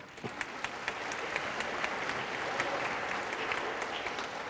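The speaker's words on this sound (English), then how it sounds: "I think you should give yourself a round of applause." A class at an induction ceremony gives itself a round of applause, with many hands clapping in a steady, dense patter that lasts throughout. It sounds moderately distant and fairly soft, with no talking over it.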